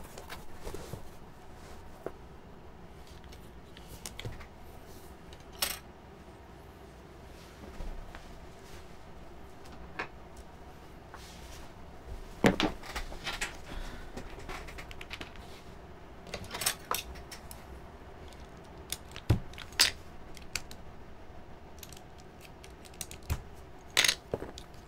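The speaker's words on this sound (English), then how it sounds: "I think I need to pry these keycaps off." Keycaps are pried off a mechanical keyboard, producing faint scattered clicks and plastic snaps at irregular intervals over a quiet background.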